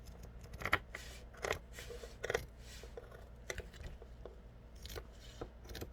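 Scissors snip through a handmade journal cover in a quiet room, giving a run of close, irregular cuts and soft scraping strokes with small gaps between them, and nobody speaks.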